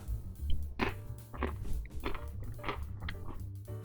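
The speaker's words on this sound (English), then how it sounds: "Are you hearing that crunch?" Several sharp, close crunches spaced about half a second apart as someone bites into a bland, salt-free cracker, with no talking.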